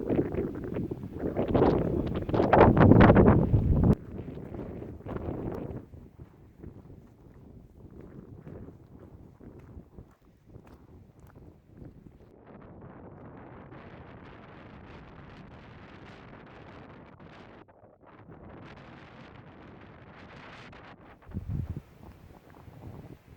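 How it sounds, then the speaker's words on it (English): Wind rumbles and gusts across the microphone outdoors on a high viewpoint in Big Bend, Texas, strong buffeting at first and then a steadier, softer rushing. "A little bit windy."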